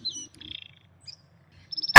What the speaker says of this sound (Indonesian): maksud saya burung kenari saya